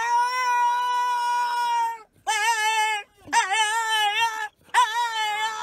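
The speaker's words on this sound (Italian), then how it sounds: "questi cani, l'unico motivo per cui la gente li compra è perché li vuole sentire far così in casa" A dog yowls in strange cat-like wails and moans, one long drawn-out cry followed by three shorter wavering bursts with brief gaps, loud and close.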